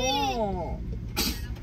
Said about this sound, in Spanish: me estornudó tres veces en la cara